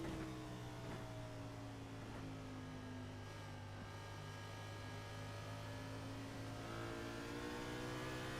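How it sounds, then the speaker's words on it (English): A Grand National stock car engine in iRacing drones steadily at high revs, its pitch wavering and shifting as the car slides and struggles for grip, continuous with no voices. "You hear that car slip sliding around."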